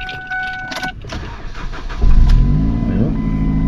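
A Mazda 3 engine cranks briefly after some background sounds and then catches around the two-second mark, settling into a loud, steady idle hum that continues to the end.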